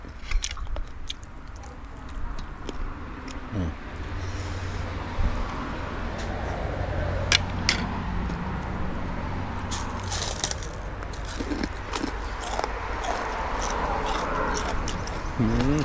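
Crunchy green garlic eaten alongside large raw oysters, bitten and chewed close to the mic in steady crisp crackles and crunches over a low background hum, with some faint voices.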